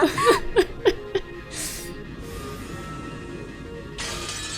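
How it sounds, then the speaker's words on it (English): In the visual novel game Umineko no Naku Koro ni, a red magic barrier shatters with a crisp, glassy crash after a few short bursts of laughter, and a second bright breaking burst follows near the end. "Blue cracks appeared in Cornelia's red barrier and it shattered with a crisp sound"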